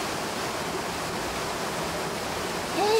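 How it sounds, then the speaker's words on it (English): A large waterfall on a mountain stream roars as a steady, loud, broadband rush of falling water, constant throughout with no pauses. "They came at the big waterfall."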